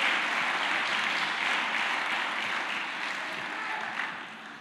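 A church congregation applauds together, a dense, steady wash of clapping from many hands that holds for several seconds and then begins to thin out at the end.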